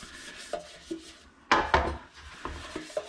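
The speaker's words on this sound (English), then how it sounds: "Put a bit of oil in one of them. I just use a bit of kitchen towel." Kitchen towel rubs oil around a metal bread tin, giving close, dry scraping and rubbing strokes with light knocks and a louder burst of friction near the middle, with no talking.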